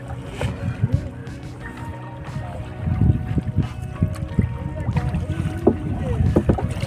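A small boat moves across flooded water at a rain-season village fish enclosure where several people feed the fish, with steady water and wind noise, low knocks and splashes, and faint voices.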